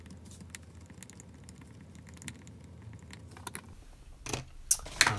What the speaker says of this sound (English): Now I'm gonna cut the trace with my X-Acto knife.